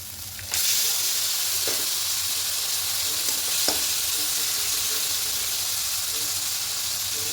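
Fish pieces hit a pan of cooked-down ginger-garlic spice masala with a sudden loud sizzle that holds as a steady, close frying hiss, with a couple of faint utensil taps.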